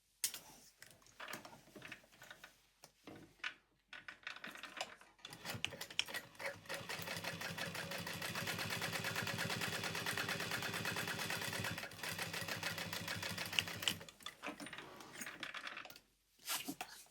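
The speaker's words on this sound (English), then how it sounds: "And then we will trim the excess off and top stitch." A sewing machine runs steadily for several seconds while topstitching a fabric handbag, a dense continuous mechanical whir with a brief pause partway through, preceded by a few short handling clicks and a quiet start.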